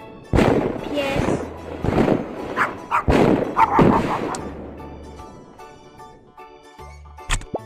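Several loud dog barks in quick succession in a children's puzzle game, followed by softer synthetic chimes and tones, with one more short bark at the end.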